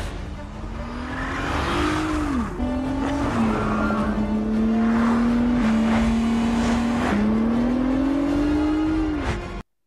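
A movie car's engine revs hard and sustains a loud, rising and falling drone with shifts in pitch and tire squeal, heard close up without any talk.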